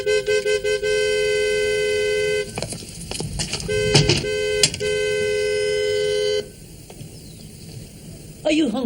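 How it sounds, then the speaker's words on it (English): A loud car horn blares in short bursts and then a long sustained honk, interrupted briefly by clattering noise, before it cuts off. "Are you honking for my ears?"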